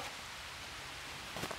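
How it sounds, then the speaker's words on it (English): Rain begins to fall at a campsite, a faint, soft, steady patter with a brief rustle at the end and no talking. "the rain's starting to come down now"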